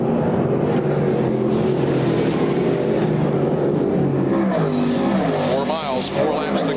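Dirt track race cars of a 300-lap modified event roar past in a dense, continuous engine drone, while a commentator's voice runs steadily over the noise.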